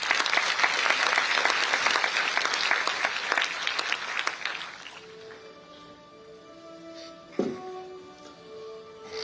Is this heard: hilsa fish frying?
no